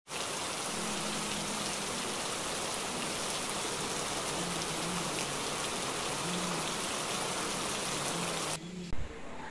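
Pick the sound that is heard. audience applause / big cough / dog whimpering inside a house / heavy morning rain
heavy morning rain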